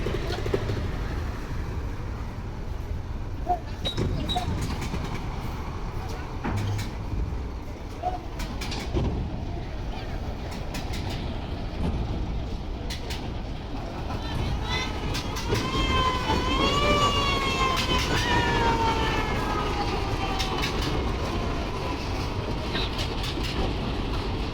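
Parabat 11 passenger launch pulling away from Barishal ghat bound for Dhaka at night, a steady low engine rumble and wash with harbour noise, then a long wavering horn-like tone over the hum near the end.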